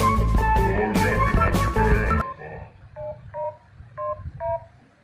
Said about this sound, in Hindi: उस पर टाइप कर नंबर, फोन नंबर टाइप करेंगे, सारा नंबर टाइप कर